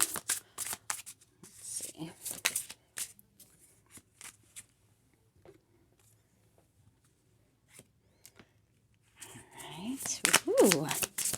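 Cards are shuffled in quick riffling bursts, crisp and close, with quiet gaps between and a voice murmuring softly near the end.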